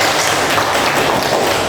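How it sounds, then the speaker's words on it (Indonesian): Students in a classroom clap their hands together in a dense, steady burst of applause that runs evenly throughout, close and fairly loud, with no talk over it. "Ya, tepuk tangan."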